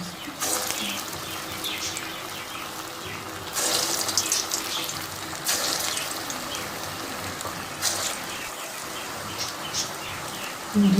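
Balls of cabbage kofta drop into hot oil and fry in a home kitchen, giving a bubbling, crackling sizzle of moderate loudness with louder bursts as more pieces go in.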